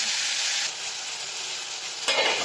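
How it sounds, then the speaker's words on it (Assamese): Mutton sizzles loudly in a hot pan while it is stirred, giving a dense and continuous frying hiss. A brief scraping burst comes near the end, and no voices are heard. "এনেকৈ লৰাই মই মটনখিনি 3 মিনিটমানৰ কাৰণে ঢাকি দিম।"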